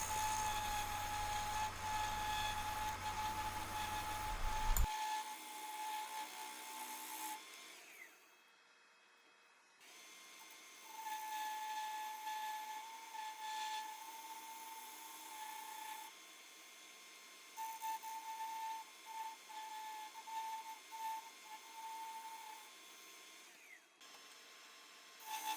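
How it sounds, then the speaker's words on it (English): Spindle roughing gouge working spindle-grain wood on a lathe for a two-piece hollow form, a steady scraping, rasping cut that runs continuously with brief pauses and a few dips in level. "here I am using the spindle roughing gouge because, again, this is spindle grain"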